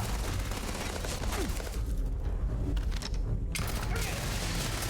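A strange gun fires in Starfield, dense continuous bursts of shots and booming fire filling the clip, with brief thinner gaps between volleys.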